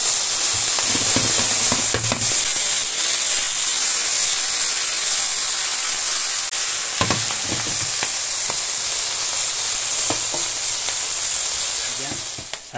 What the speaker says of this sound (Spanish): aquí la vamos a hacer a la plancha durante más o menos 6-7 minutos